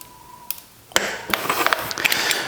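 Ratcheting clicks from a dual-direction torque wrench during a service of a Planet X London Road bike, with a short tick near the start, then a sharp mechanical snap and a dense, continuous run of close clicks and rattles.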